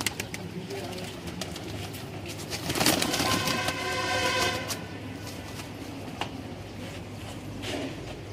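Several Pakistani high-flying pigeons coo softly and repeatedly, with a faint flutter of wings in the middle, set against steady low background hum.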